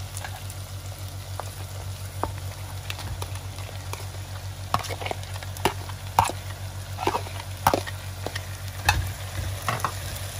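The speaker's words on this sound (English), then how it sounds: "Okay, now my red onions have sauteed. I'm going to now add the vegetables." Vegetables sizzling in a pan with sautéed red onions while being stirred, a moderate frying hiss broken by repeated scraping and tapping of the spoon, close up beneath a steady low hum.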